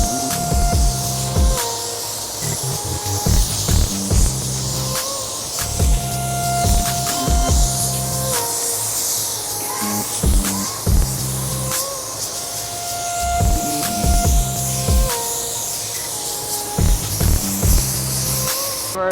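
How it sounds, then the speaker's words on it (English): A spray gun hisses blending clear onto a car panel in repeated close bursts, a steady airy spray rhythmically stopping and starting with faint background hum. "Already sprayed our panel with the blending clear"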